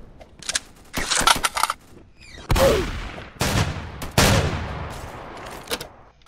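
Bursts of gunfire from the Strucid battle royale video game crack out in several loud rapid volleys and single shots, close and sharp, with brief gaps between them.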